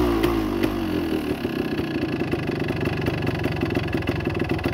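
A 1975 Yamaha DT400 motorcycle engine idles steadily after its carburetor was cleaned, with a low, rhythmic putter throughout and a brief sharper rise near the start.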